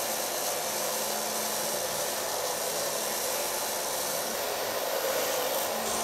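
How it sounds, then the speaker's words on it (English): A hair dryer blows steadily and loudly close by as it dries hair over a medium round brush, a constant airy roar with no pauses and no talking. "Starting blow drying the hair with a medium brush."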